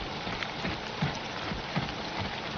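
Rain falls in the video game Dawn of Defiance as a continuous hissing downpour with a few soft, heavier drops or thuds, steady and unaccompanied by voices.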